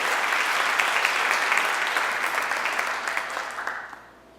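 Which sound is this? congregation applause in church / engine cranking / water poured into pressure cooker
congregation applause in church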